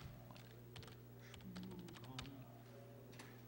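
Quick, irregular keystrokes clatter on a computer keyboard attached to a BeagleBone Black, close and fairly quiet, in a short burst of typing with no speech.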